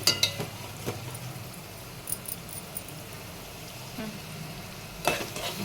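Cucumber and chicken curry fries in a pan with a low, constant sizzle, broken by occasional scraping and clinking as a spoon stirs it, close by, with sharper stirring strokes near the start and end.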